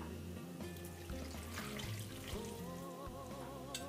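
Water poured into a cooking pot for Bhutanese ema datshi, with a steady running, splashing pour lasting the whole few seconds at moderate level under light kitchen clatter.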